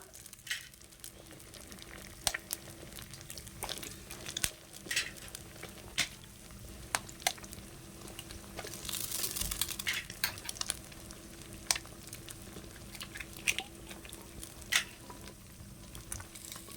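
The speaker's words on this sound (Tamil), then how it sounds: "இந்த அளவுக்கு வெங்காயம் வணங்கின உடனே நீங்கள் முட்டையை ஊற்றிக்கோங்க" Six eggs are poured over sautéed onions and fry in a pan for homemade chicken macaroni, with a continuous crackling sizzle punctuated by scraping clicks from stirring, moderately loud and close, with no talking.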